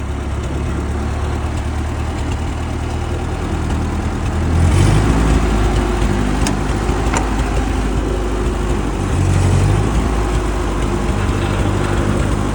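An old 1940s Ford 8N tractor engine idles steadily with a low, loud rumble, with occasional louder surges and faint irregular pops.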